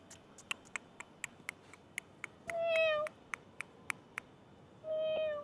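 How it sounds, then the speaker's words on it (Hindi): Two or three small kittens give two drawn-out, thin, high meows, fairly close, over a steady run of sharp ticking clicks and quiet background. "ये देखो ये दो, ये देखो बिल्लियाँ, छोटे कुकु, दो छोटे छोटे।"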